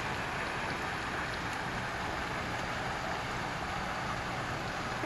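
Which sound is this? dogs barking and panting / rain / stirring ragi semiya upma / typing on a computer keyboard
rain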